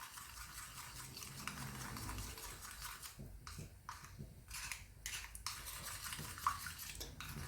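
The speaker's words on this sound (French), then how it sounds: "Donc mélangez bien hein, pour vraiment faire dissoudre votre levure chimique dans de l'huile." Baking powder is stirred into oil in a bowl for msemen dough, a utensil scraping and clinking against the dish in a steady, close run of small knocks over a low background hum.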